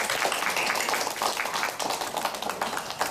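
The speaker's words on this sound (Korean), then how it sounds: "다시 한번 뜨거운 박수" A congregation at a church Wednesday Bible study breaks into warm, steady applause, dense clapping from many hands filling the room for a few seconds.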